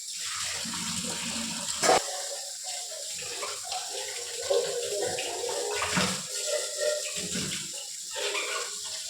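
Borewell water runs steadily from a tap into a basin in a home kitchen, a continuous hissing splash with a few louder gushes and clatters, heard alone.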